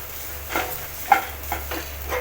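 Sesame seeds and tamarind are stirred in a pan, giving a few soft scraping strokes of a spoon roughly every half second over a low steady hum, fairly quiet and with no voices.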